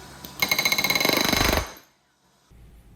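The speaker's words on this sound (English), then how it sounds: "Now it's time to rivet the other half of the skins to the rear spar." Pneumatic rivet gun driving rivets through aircraft skins into the rear spar of a Van's RV-14 elevator, a loud rapid burst of hammering pulses lasting about a second, then stopping into near silence.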